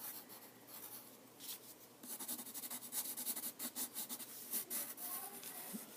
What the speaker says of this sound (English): look at how I'm turning my paper so I can shade that in like that